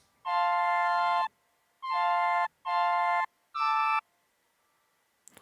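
Four sustained, breathy flute-like keyboard chords with short gaps between them, played alone, then silence.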